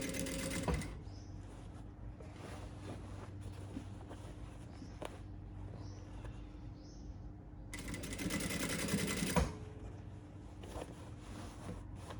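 A sewing machine stitches a sleeve onto a shirt body, running in a steady close whir, then stopping and starting again with a louder burst near the end.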